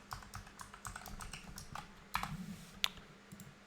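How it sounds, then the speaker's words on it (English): Faint clicks of a computer keyboard as a password is typed on an Ubuntu machine, a quick irregular run of keystrokes with a couple of sharper taps near the end. "then we can type in our password"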